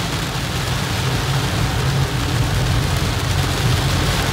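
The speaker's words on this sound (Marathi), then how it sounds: "चांगलाच पाऊस आहे गावी." Steady, heavy rain hiss over a low road rumble while driving through a downpour on the Mumbai-Goa Highway, continuous and fairly loud with no talking.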